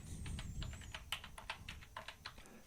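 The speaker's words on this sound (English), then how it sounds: "So let me type in capacitor like this." Fingers type a word on a computer keyboard while parts are looked up in a library, a quick run of crisp, close key clicks with uneven spacing and a few harder taps, over faint room hiss.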